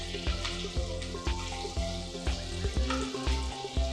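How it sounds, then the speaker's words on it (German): Smoked tofu sizzles steadily in a hot pan, with sharp clicks and taps from stirring or a utensil breaking up the crackle, close and continuous. "Räuchertofu zuerst in die Pfanne geben."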